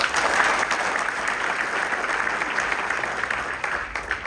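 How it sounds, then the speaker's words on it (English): A large audience at a sports celebration gives a government minister's honoree a big round of applause, a dense, even wash of clapping that stays loud and steady throughout. "I want us to give him a big round of applause."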